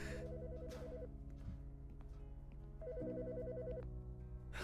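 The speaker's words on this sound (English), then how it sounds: "Phone." In the video game Autopsy Simulator, a telephone rings in two electronic bursts separated by a pause. The rings sit over a steady background hum and play alone, with no talking.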